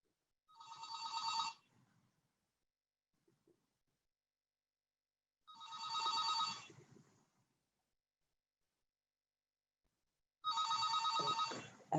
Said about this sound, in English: I think that's my phone now.